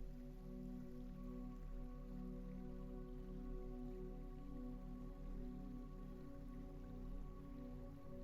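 Gentle rain falls on a still lake, an even, quiet patter spreading across the water under a low, held tonal music bed, with no speech.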